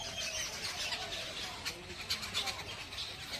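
Several birds perched in trees chirp and call in scattered, faint bursts over a soft outdoor background hiss, distant rather than close.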